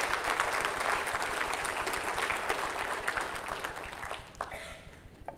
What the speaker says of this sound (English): let's give Canon a round of applause